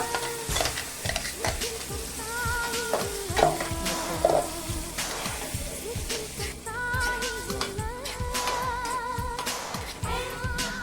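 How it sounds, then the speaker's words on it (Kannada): Ground radish chutney paste hits hot tempering with asafoetida and fries on low flame, sizzling quietly while a spoon stirs and scrapes the pan in repeated strokes. "ಒಗ್ಗರಣೆಗೆ ರುಬ್ಬಿರೋದು ಹಾಕಿ 1-2 ನಿಮಿಷ"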